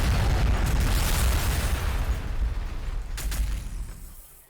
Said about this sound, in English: So that's Marine artillery.